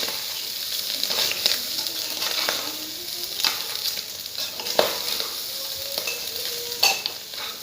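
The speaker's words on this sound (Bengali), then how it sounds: "এখন চাউলটা ভালো করে লাড়তে হবে" Rice sizzling in oil with ginger and raisins for pulao in a pressure cooker while being stirred, a steady close frying hiss broken by scraping spoon strokes against the pot.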